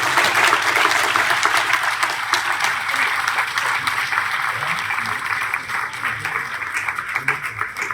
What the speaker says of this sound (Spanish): vamos a proporcionar un fuerte aplauso a la doctora Gabriela